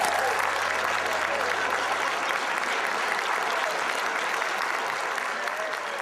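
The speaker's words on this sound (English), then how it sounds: "how about a big round of applause for our newest flight attendants?" Audience applause for newly graduated flight attendants at a ceremony, a steady dense wash of clapping from a large crowd that holds level for the whole stretch with a faint voice in the mix.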